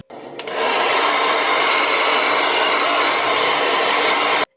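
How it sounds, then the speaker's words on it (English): A conventional older blow dryer switching on and blowing a loud, steady broadband rush of air, close to the listener, then cutting off abruptly after about four seconds. "this is my dryer"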